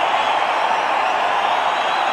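Crowd at an international cricket match between India and Australia roaring steadily for Rohit Sharma reaching 150, a dense, continuous wash of cheering with no break or rise.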